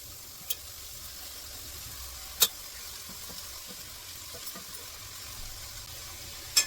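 Chopped vegetables sautéing in hot oil in a home kitchen, a low, even sizzle with occasional sharp clinks of a spoon against the pan, quiet and without speech.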